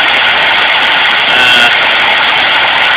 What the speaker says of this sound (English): you'll be able to hear the motor drop